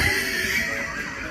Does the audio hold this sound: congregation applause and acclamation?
no